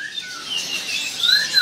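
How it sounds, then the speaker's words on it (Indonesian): A local zebra dove (perkutut) at a bird market kiosk gives soft, clear whistled coos, one near the start and another rising toward the end, against quiet market background. "Perkutut lokal."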